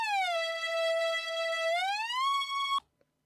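A dry synth lead blending a sine and a saw wave plays a melody with no reverb, one sustained note that glides upward near the end and then stops abruptly into silence.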